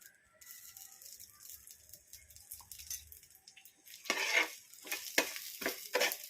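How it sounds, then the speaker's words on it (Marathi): Niger seeds roast in a little oil in a pan, giving a faint, steady sizzle with occasional stirring scrapes and rattles that grow louder toward the end. "आता आपण छान असं कारळ त्यामध्ये टाकून भाजून घेणार आहोत थोडंसं तेल टाकणार आहोत"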